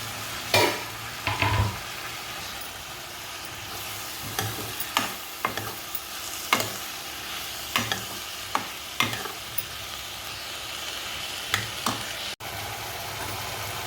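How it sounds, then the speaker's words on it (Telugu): Onions and tomato pieces fry in a pan with a steady sizzle, broken by repeated sharp scraping clicks of stirring at irregular intervals. "ఆనియన్స్ అయితే మనకి ఫ్రై అయిపోతున్నాయి కదా."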